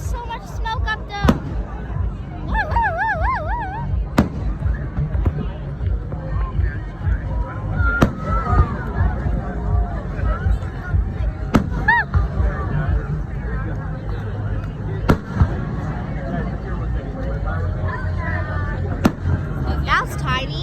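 Fourth of July fireworks bursting overhead at a crowded outdoor gathering, sharp pops and booms scattered through the clip amid steady crowd chatter and excited voices.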